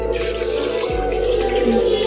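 Water pours steadily and loudly into soaked rice in a pot for mutton biryani, a continuous close splashing stream with no talk.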